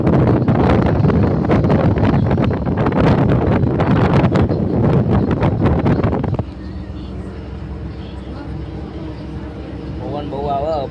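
Strong sea wind near Dwarka buffets the microphone in a loud, rough roar for about six seconds, then drops to a quieter background with faint voices.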